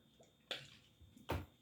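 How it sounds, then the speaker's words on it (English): Water poured out during a cowrie shell reading, heard as two short splashing gushes about a second apart, fairly close and soft, with no talking. "Let me put some of my little water here."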